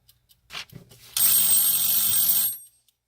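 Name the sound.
timer buzzer going off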